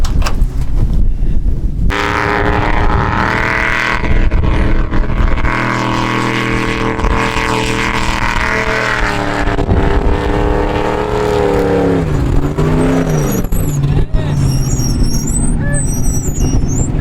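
Off-road vehicle with 40-inch tires revving hard and straining in desert sand dunes, a loud sustained engine roar rising and falling in pitch, with faint voices near the end.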